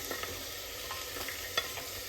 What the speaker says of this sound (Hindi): अब हमें राजमे की मसाले के साथ खूब अच्छे से भुनाई कर लेनी है।